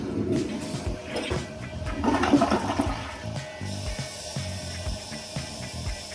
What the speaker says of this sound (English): Do another flush.